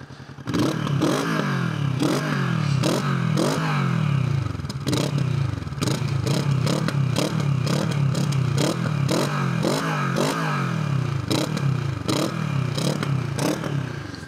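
A 2025 Kawasaki Vulcan S motorcycle engine revs repeatedly nearby, its exhaust popping and crackling in rapid bursts between throttle blips, loud and sustained.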